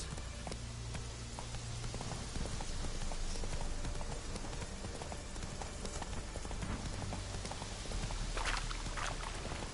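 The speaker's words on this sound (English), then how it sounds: "Giddy up. Come on, Roach." Horse hooves gallop steadily in The Witcher 3, a fast, continuous clip-clop rhythm over a dense outdoor ambience, mid-distance and moderately loud, with a brief voice spoken over it.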